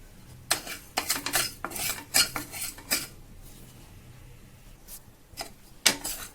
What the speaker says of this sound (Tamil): ஒரு வானில் பச்சரிசி அதை நல்லா கொஞ்சம் பொன்னிறமாக வறுத்து எடுத்துக்கலாம்